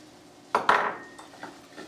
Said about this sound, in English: I'm going to stir it to make sure that each piece of bread gets coated with the butter